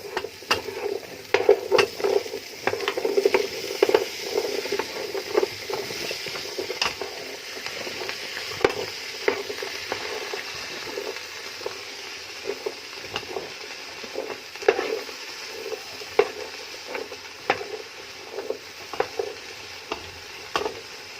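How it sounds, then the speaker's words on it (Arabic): Potatoes being stir-fried in a pan, with a steady close sizzle of frying and repeated scraping and stirring clicks running throughout, no talking. "هنشوحهم بقى مع تشويحة تانية مع البطاطس"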